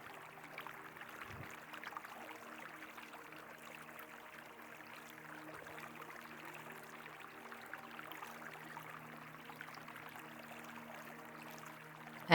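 A river flows steadily in a quiet outdoor setting, a faint continuous wash of moving water with soft trickles and no voices, holding an even level throughout.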